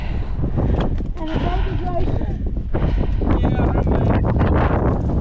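Strong gusting wind on a mountain on the W trek buffets the microphone with a loud, steady roar while people exclaim and talk over it.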